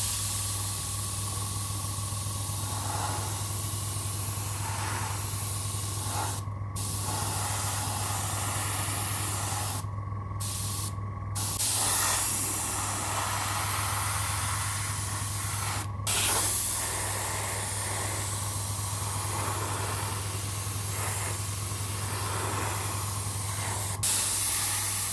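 An airbrush sprays thinned Vallejo Dark Sea Grey paint in very thin layers onto the hull of a Bandai Perfect Grade 1/72 Millennium Falcon model, a steady close hiss with a few brief pauses and a constant low hum underneath.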